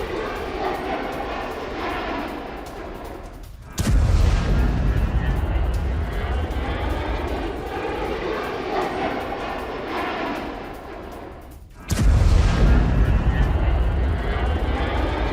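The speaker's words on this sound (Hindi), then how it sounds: "ये विद्रोही गुटों पर फाइटर जेट से बमबारी का दावा, A-10 विमानों से प्रॉक्सी गुट पर हमला।" US A-10 jets attack in Iraq with a continuous loud roar and two sudden heavy booms several seconds apart, each blast followed by a sustained rumbling wash.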